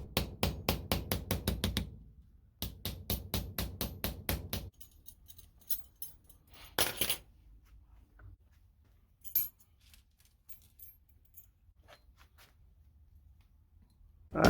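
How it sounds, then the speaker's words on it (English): Mini ball peen hammer tapping rivets on a leather belt: a fast run of sharp, evenly spaced metallic taps, a short pause, then a second quick burst, followed by scattered fainter knocks and clinks. "Sometimes I even use my mini ball peen hammer to make the rivet heads look a little more"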